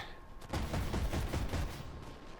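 Armored vehicle cannons fire in the tank combat game Armored Warfare, a rapid series of heavy, booming shots in a steady rhythm, loud and close, lasting about a second and a half before trailing off.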